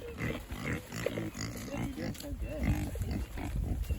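Several pigs grunting and snuffling close by in their old paddock, a busy overlapping stream of low grunts and oinks that continues throughout.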